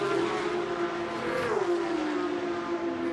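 Porsche Supercup race cars running side by side in a battle at Monza, a steady loud engine drone with a pitch shift midway as they pass.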